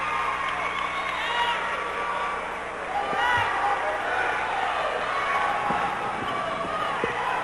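A crowd at a 1995 girls' high school basketball conference final between South View and Terry Sanford makes a continuous roar of cheering and shouting, with sneaker squeaks and a ball bounce or two, and an announcer's voice is faintly under the noise.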